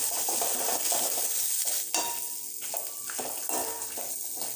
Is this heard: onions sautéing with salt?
yes